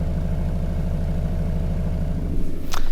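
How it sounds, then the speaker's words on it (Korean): A BMW 528i with an aftermarket variable exhaust valve switched open, idling with a deep, steady rumble, loud and close, swelling slightly at the end as the engine is blipped. "배기음을 들려드리게 되면"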